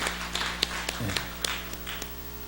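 A church congregation claps briefly, with a few scattered, sharp hand claps and taps at moderate distance rather than sustained applause, over low room hum.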